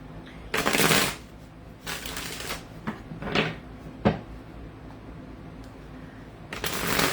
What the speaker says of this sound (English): I'm going to one day shuffle all of the finish off of my cards